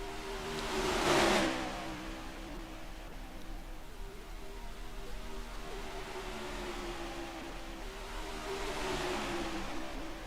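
Race car engines roar on the Daytona International Speedway track in a racing video game, a steady engine drone with a loud car sweeping past near the start and another rising toward the end.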